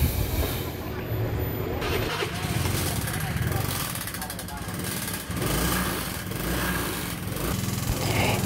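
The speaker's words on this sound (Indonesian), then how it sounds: "Dan ditambah ini untuk suara mesin sangat kasar sekali" A Honda Vario scooter with a smoking exhaust runs rough, its engine putting out a loud, uneven, knocking clatter close by, with a few brief dips in the noise.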